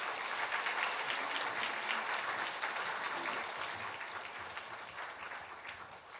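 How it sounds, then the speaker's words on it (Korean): A church congregation at a Sunday morning worship service claps to welcome the pastor to the pulpit, a broad, even wash of many hands that holds steady, then gradually thins and fades toward the end. "박수로 우리 목사님 모시겠습니다."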